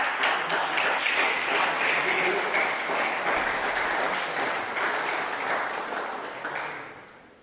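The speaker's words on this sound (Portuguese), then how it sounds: "Eu dava até uma salva de palmas para ele" A church congregation applauding loudly and steadily, the clapping dense and continuous before gradually fading away at the end.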